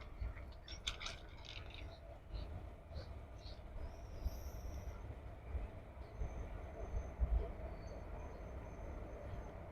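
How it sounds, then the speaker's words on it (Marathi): A WAP-4 electric locomotive hauling the Kolhapur–Mumbai Koyna Express rumbles through a station at Vishrambag, a low continuous rolling drone with faint clanks and a high distant tone above it. "Bhusawal लोकोशेडचा W A P four locomotive आज आहे कोयना एक्सप्रेसवरती"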